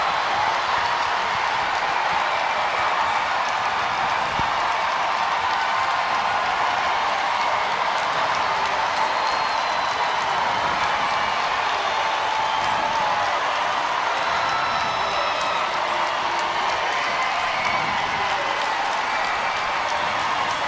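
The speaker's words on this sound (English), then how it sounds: "The crowd has erupted here after Kaylee Fracken scores to make it 4-3." A hockey arena crowd at a PWHL playoff game between Boston and Montreal roars steadily after a late goal, a dense, sustained wall of cheering and applause with no break.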